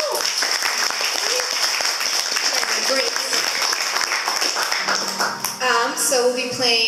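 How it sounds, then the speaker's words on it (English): Concert audience applause greets a string trio and violist, a loud, dense spread of clapping that continues throughout, with a voice talking over it and a few musical tones sounding near the end. "And give them a round of applause."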